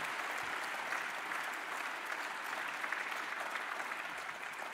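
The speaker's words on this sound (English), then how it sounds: "And please let us give a special round of applause for our MD 114 treasurer, past District Governor Dr. Karl Brevi" Steady applause from an audience at a Lions Day ceremony at the United Nations in Vienna, a dense, even wash of many hands clapping at moderate distance for the full few seconds, with no voices on top.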